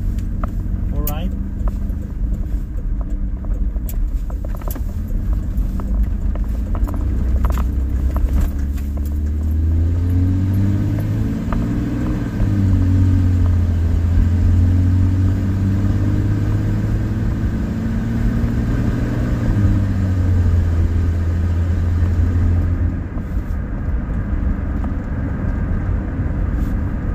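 A truck drives behind the car on a town road in Tisdale, a steady low engine rumble with gear-shift swells under continuous talk inside the vehicle.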